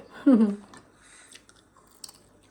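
Chewing of Swedish matsutake mushrooms, a close, brief soft crunch and squishing bite followed by quieter mouth sounds, with a short voiced hum at the start.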